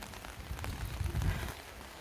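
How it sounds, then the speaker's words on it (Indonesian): Heavy rain patters on the street in the evening, a dense soft wash of drops heard while walking outside, quiet and fairly distant. "Hujannya lumayan deras."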